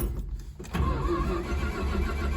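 A 1972 Dodge Dart whose engine cranks for a moment, then catches and settles into a steady idle rumble. It is close, fairly loud and alone, with no talk over it.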